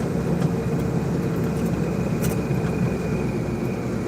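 Car driving on a road, a steady, loud, even engine and road hum from inside the cabin with no talking and no change in pace.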